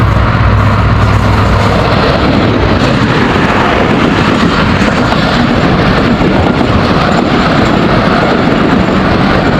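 A Pakistan Railways locomotive roars past at speed. The loud, steady rumble and rush of the train holds close and unbroken for nearly ten seconds, with no talk.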